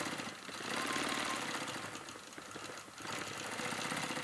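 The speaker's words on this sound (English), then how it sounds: "Now I just pull my machine over, do a couple of stitches there" A sewing machine stitching a quilt block with rapid, steady mechanical chatter and a brief pause before it runs again, close and fairly quiet, with no talking.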